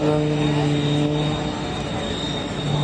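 A propeller aerobatic airplane engine drones steadily at the Reno Air Races, its tone shifting slightly as it kicks and tumbles overhead, moderately distant with a continuous hum.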